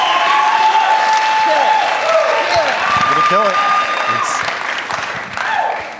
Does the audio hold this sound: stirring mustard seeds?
no